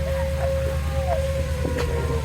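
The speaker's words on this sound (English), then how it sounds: "the sirens are going off" Tornado warning siren sounding over a campground during a storm with hail; a steady distant wail holds under loud rumbling background noise.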